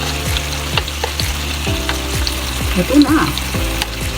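Korean bulgogi sizzles and frizzles steadily in a pan as it is stirred, with scraping strokes and a brief voice speaking over the cooking noise.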